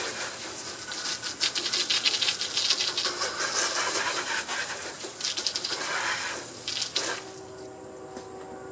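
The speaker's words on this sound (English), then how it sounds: "now we need to wash it off" Water runs from a tap while a scrubbing brush and pad with detergent work over a sanded house door. The rushing water and rubbing swish stay steady and close, then the scrubbing stops and the flow continues alone.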